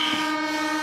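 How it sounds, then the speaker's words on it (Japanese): A 1968-built former national railway express diesel railcar with a 500-horsepower engine sounds a steady, loud horn, the sustained tone filling the whole moment without pause. "新型のキハ1870系に押され、その姿を消しつつある貴重な列車なんだ。"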